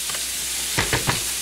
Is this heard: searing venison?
yes